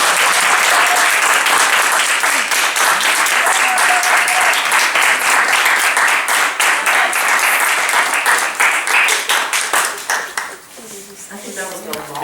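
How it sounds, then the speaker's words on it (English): A crowd at a creative writing event gives a big round of applause welcoming a guest, loud dense clapping that continues for several seconds before thinning into scattered claps near the end, with voices faintly underneath. "with a big round of applause."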